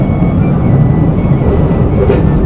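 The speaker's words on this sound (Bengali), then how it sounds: "এখন ট্রেনে করে এই পাশ দিয়ে যাচ্ছি" The Tebhaga Express in motion, heard from on board as a loud, continuous low rumble of wheels and carriage noise, steady throughout with no speech.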